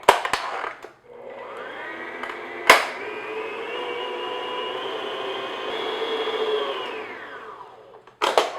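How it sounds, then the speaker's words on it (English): An electric mixer beats peanut butter into chocolate peanut blossom cookie dough, a steady whirring drone lasting about six seconds, bracketed by clicks and knocks as it starts and stops. "So I'm just going to beat in my peanut butter."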